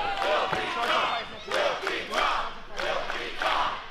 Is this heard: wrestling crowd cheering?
yes